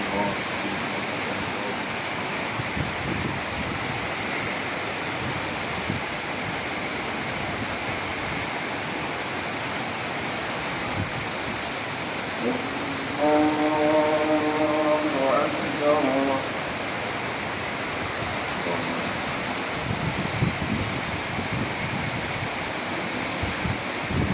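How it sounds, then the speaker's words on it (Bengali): Heavy morning rain pours outdoors in dark, windy weather, a dense continuous hiss close by, with a voice briefly audible under the downpour midway through. "ভাই দেখেন বৃষ্টি হইতেছে সকালে"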